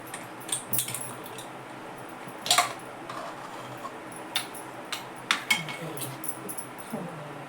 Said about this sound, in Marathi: कुकर पण गार होऊ दिला जरा बघते आता हे उघडून